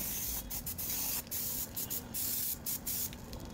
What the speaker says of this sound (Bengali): আমরা লিকুইড দিয়ে ভালো করে আবার আরেকবার হাওয়া মেরে নেব